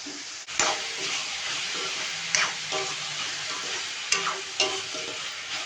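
Tomatoes sizzling in a hot pan with spices, a steady close frying hiss broken by a few sharp spatters and stirring scrapes.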